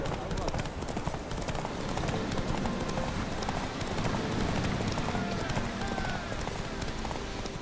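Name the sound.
horse Roach galloping hooves in The Witcher 3 video game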